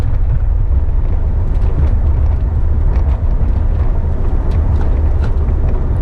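A 1991 Nissan 300ZX Twin Turbo with a manual gearbox pulls hard, its engine a steady, loud, rumbling drone heard from inside the car, with no talk over it.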